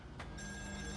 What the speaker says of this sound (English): Is phone gonna ring?